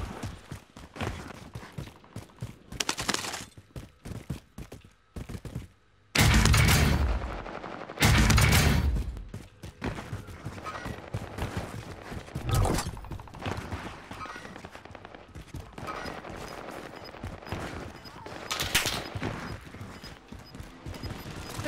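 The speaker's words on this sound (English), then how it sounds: "someone shooting at me?" Bursts of gunfire in Call of Duty Warzone, with loud close shots around seconds 6 to 9 and scattered cracks elsewhere, over a dense, busy game soundscape.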